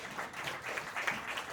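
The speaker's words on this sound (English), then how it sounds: "Give him a round of applause." A conference audience gives a round of applause for a guest speaker at a crypto event, a short burst of steady, moderately faint clapping from a crowd.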